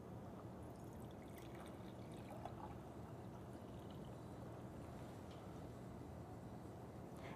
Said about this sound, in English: I'm going to pour it back out into my beaker